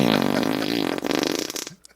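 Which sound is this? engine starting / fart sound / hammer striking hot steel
fart sound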